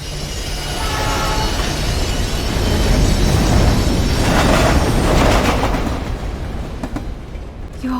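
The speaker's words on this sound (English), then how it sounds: "What's that noise? The train." In the video game Life is Strange, a train roars past, a loud, close rumble that swells to a peak and then eases off, with clattering rail noise and no talking.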